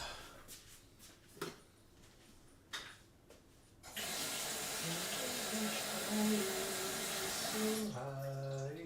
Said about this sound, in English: let's go fill up on water in the Brita filter